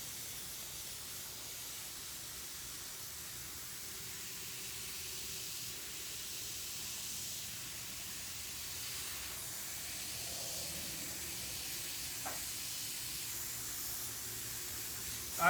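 Airbrush spraying paint onto a shirt, a continuous soft airy hiss that holds steady throughout, with a faint click near the end and no talk.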